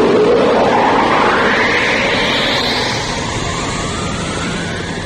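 Airwolf helicopter turbo ignition in a German radio play, a loud continuous roaring engine effect with a rising whine sweeping upward throughout, dense and steady, with no voices.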